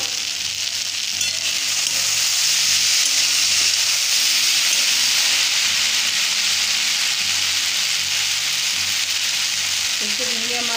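Okra sizzles and fries steadily in a pan for gram-flour bhindi, a loud, continuous hiss with occasional stirring scrapes and no talk.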